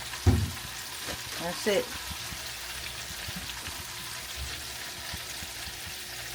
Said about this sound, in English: We're on the fry there.